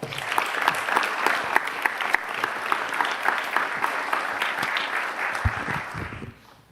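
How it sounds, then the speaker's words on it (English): Audience applause for police chief Paul Humphrey at an LMPD promotions ceremony, a steady, dense round of clapping sustained for several seconds before fading out at the end. "Let's give him a round of applause."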